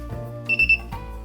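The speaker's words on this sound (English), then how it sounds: "It beeps." An ES-100 body odor detector sounds a short electronic beep as it powers on. The brief high tone is heard close up over faint background tones.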